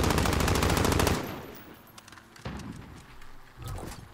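Rapid machine-gun fire in the video game Call of Duty: Modern Warfare, a loud, fast burst of shots that cuts off, followed by quieter scattered shots and thuds.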